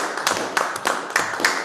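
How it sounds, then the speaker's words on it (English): A few meeting attendees clap sparsely, with distinct, irregular claps spaced about a quarter second apart, close and moderately loud. "So I guess we can clap"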